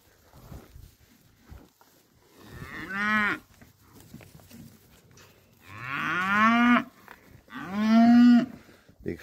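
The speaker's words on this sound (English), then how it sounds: "That's a fine cow too." A cow moos three times, long and loud, with low rumbling calls and quiet pauses and faint shuffling in between.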